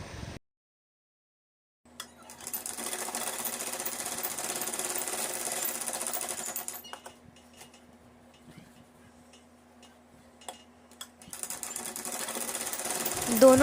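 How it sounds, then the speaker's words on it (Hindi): A domestic sewing machine stitches a dart on a Madhubala-style dress in two close, steady running bursts, separated by a quieter pause filled with faint handling clatter. "इसकी भी डार्ट को सिल लेते हैं।"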